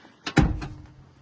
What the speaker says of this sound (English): Soft closed door, there it goes.